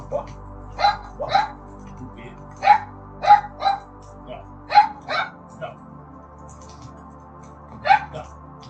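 Dogs left alone at home in the morning let out about nine short, sharp barks at irregular intervals, fairly close, over a low steady background hum.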